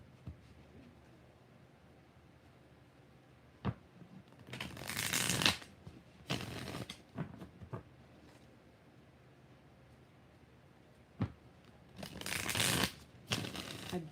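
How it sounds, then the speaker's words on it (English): Tarot cards are shuffled in several quick riffling bursts, close and crisp, separated by quiet pauses and a few soft taps. "One more shuffle."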